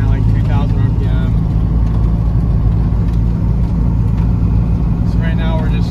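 A turbocharged Honda Del Sol drives at low revs with a steady, loud engine rumble and road roar, shifting gears around 2,000 RPM; a voice talks over the noise.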